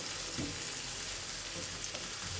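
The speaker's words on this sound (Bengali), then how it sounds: "পেঁয়াজটা আমি একটু লাল করে ভেজে নেব।" Chopped onion frying in hot oil for pigeon curry, a continuous close sizzle with a few soft stirring scrapes.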